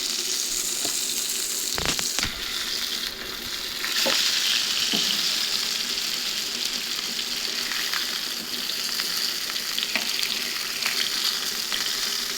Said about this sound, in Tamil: சிக்கன் குழம்பு அழகு சிக்கன் குழம்பு கொதிக்குதுங்க